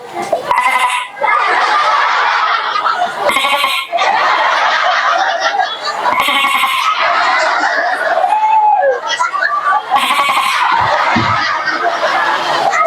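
A man imitates a goat bleating, playing a kid goat's calls during a lively religious lecture at a Maulid Nabi gathering, with wavering nasal bleats repeated in bursts over a steady crowd and hall background.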